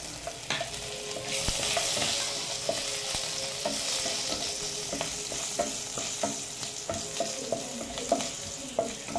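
Crushed garlic fries in oil with black cumin and dried red chilies, a close, steady sizzle broken by frequent sharp clicks and scrapes of stirring.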